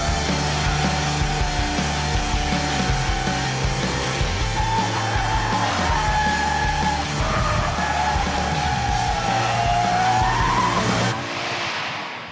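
Tyres squeal and scrub loudly as a Toyota GT86 slides sideways at 30 mph on low-grip tyres, a sustained skidding screech over engine drone, ending abruptly.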